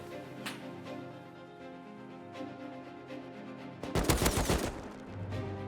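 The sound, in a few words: AK rifle gunfire in a video game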